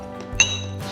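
Drinking glasses touch in a toast during a meal of fresh sea squirt and raw fish, giving a single bright clink close to the microphone that rings briefly.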